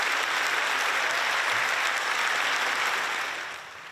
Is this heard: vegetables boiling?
no